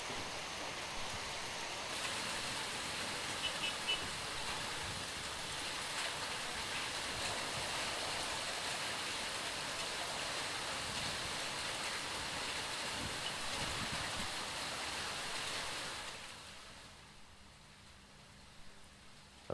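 Heavy rain pours down in Hyderabad with a dense, continuous roar of falling water and runoff that stays loud for most of the stretch, then drops off sharply near the end, with no voices.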